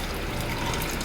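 Hot, thickened milk for rasmalai is poured from the cooking pot into another vessel, making a continuous, dense splashing pour that runs steadily throughout at close range.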